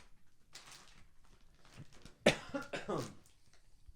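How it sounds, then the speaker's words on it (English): A single sharp cough rings out near the mic, followed by a short rough burst, amid quiet rustling. "I coughed, and that was bad."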